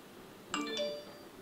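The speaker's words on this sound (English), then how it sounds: "That's my phone." A phone gives a short notification chime, two quick bright tones ringing out and fading over a quiet room.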